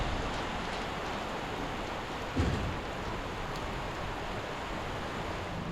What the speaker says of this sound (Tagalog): bumuhos yung malakas na ulan